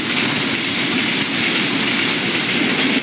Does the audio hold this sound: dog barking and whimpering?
no